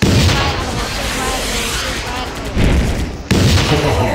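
Rapid gunfire and booming blasts from a flying wild tiger robot video game, a loud continuous barrage that fills the clip, with brief drops near the end before resuming.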